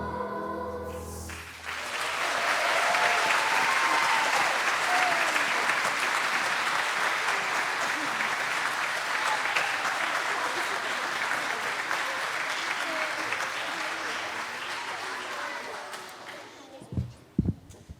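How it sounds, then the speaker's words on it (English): Audience applause for a grade 5 choir at a school winter music sharing, a sustained burst of clapping that swells quickly, holds steady for about fifteen seconds, then fades out with a few last claps. "Can we give them another round of applause, please?"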